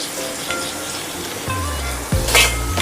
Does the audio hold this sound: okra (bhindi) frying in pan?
yes